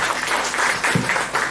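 A brief burst of crowd clapping at a neighborhood halal bihalal gathering, dense and fairly loud, lasting under two seconds.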